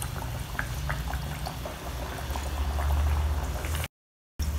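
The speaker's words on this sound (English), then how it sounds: "Fry it over a low to medium heat till it puffs up" Kachoris deep frying in oil over low to medium heat, a gentle continuous bubbling and crackle with small pops, moderately quiet, briefly cutting out near the end.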